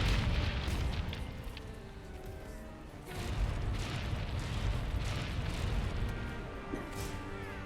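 Cannons fire in Monster Hunter: World, with repeated heavy booms and crashes at moderate level over a rumbling battle background, with no voices over them.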